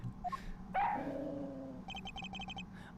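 A dog in the Ace Attorney Investigations video game yelps and whimpers, then lets out a quick series of sharp barks, moderately loud over a soft game background.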